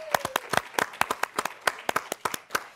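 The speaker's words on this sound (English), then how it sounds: "you can hear her watch party, the crowd going wild" Scattered hands clap at a watch party for a dance competition winner, uneven individual claps in a quick irregular rhythm, fairly close and moderately loud, with no voices.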